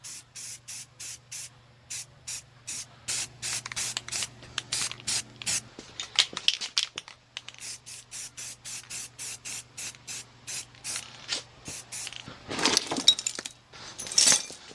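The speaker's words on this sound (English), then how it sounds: "Let's clean it up and paint it." Short, repeated hisses of an aerosol spray can coat a welded trailer coupler on a Big Tex utility trailer with black paint, close bursts with brief pauses and a faint steady hum underneath.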